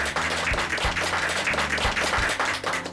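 An audience applauds to welcome a guest philosopher at a neighbourhood bookshop talk. Many hands clap in a loud, dense, sustained ovation that holds steady throughout.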